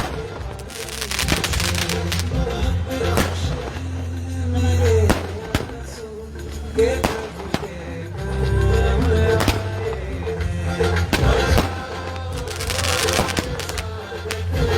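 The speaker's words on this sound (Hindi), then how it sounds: "यहाँ पर एक भव्य आतिशबाजी यहाँ पर की जा रही है" Fireworks burst repeatedly in a dense, crackling barrage over Ana Sagar jetty in Ajmer, with booming thuds and sharp pops overlapping continuously in an open outdoor space.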